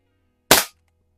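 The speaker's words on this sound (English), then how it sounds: "Even 3 pumps is more than enough for plinking in the garage here" A Crosman Model 1 .22 caliber pump air rifle, pumped three times, is fired at a target in a garage. It gives one sharp, loud pop that dies away quickly against quiet room hum.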